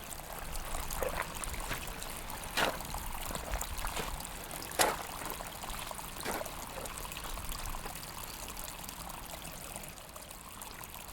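Water trickling and flowing steadily down a shallow earthen irrigation ditch, quiet and close, with occasional soft splashes.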